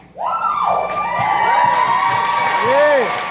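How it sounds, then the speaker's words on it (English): A theater audience cheers and whoops in a live stage performance, with excited shouts and whistle-like rising and falling calls over a loud crowd roar and light clapping. "there was an enthusiastic roar of applause"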